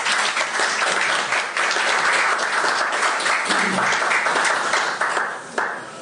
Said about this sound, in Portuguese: Eu pedi uma salva de palmas para o Sr. Chefe de Divisão que está ali